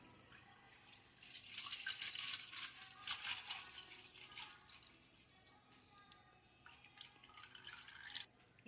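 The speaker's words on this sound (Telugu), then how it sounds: "మనం గోల్డ్ ప్యాకెట్ అర లీటర్ కట్ చేసుకొని దీంట్లో పోసేసుకుందాం" Half a litre of milk poured from a cut packet into a vessel in a home kitchen, a faint trickling, splashing stream with a few drips near the end.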